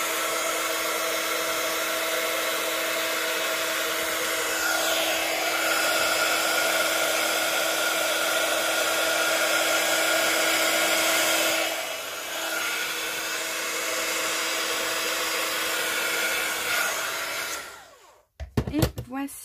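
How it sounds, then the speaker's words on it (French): A heat tool melts embossing powder on a stamped design, blowing a loud, steady hot-air whoosh for most of the time before it cuts off with a few handling knocks. "une fois qu'on va chauffer, ça va totalement embosser."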